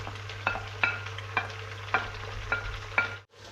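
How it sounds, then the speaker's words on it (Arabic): Meat for Iraqi dolma frying in a pan, a steady sizzle under six regular metallic scrapes and clinks of stirring, ending in a brief drop to near silence. "ورا ما حمسنا اللحم اضيف عليه الحشوة"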